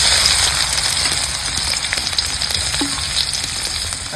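Onion frying in hot oil with bloomed cumin seeds, a steady, fairly loud broadband sizzle that holds without pause throughout, with faint scattered crackles and no voices.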